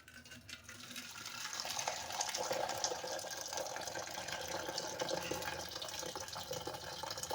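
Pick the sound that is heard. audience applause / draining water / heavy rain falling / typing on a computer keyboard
draining water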